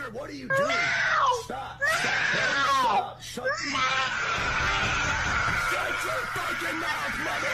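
A child screams and wails loudly in several piercing bursts, then shrieks in one long continuous cry over low background noise.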